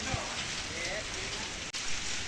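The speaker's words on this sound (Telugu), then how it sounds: "వర్షం కొడుతుంది బాగా. కడమలో వర్షం కొడుతుంది." Heavy rain falling at the Kadem project in Nirmal, Telangana, a steady broadband hiss of rain on surfaces with a brief dropout partway through, heard from a scooter trip.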